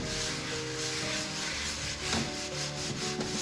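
Kitchen towel wiping dust off a prepared pastel painting surface makes a steady, close papery rubbing and scuffing, continuous and fairly quiet with no voices.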